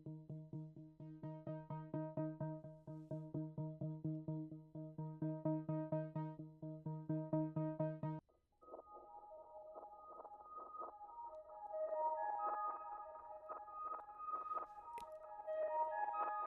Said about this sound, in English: I had this eighth note pulsating pad thing come in